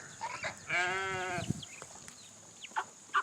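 A goat gives one clear wavering bleat at feeding time in a free-range barnyard, followed by scattered faint bird chirps and small farm-animal sounds nearby, quiet overall, with no talking.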